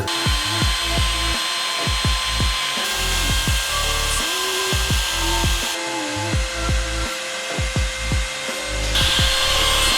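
Carbide router spindle on a Shapeoko CNC machine cutting, a loud steady whine with repeated rhythmic bites and bursts as the bit moves through the workpiece, continuous and close with no talking.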